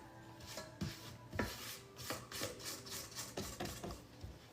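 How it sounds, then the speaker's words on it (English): A spatula scrapes creamy vanilla buttermilk pound cake batter down the sides of a mixing bowl, soft rhythmic rubbing strokes with occasional light knocks, quiet and close. "Let's lift, scrape down, scrape down, scrape down, scrape your bowl"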